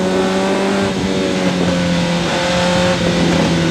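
TVR Tuscan race cars at Oulton Park, 1995, hold a steady, loud engine drone with sustained harmonic whine, several cars running together without a break.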